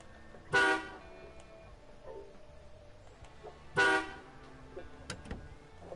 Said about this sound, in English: they've actually changed the horn sound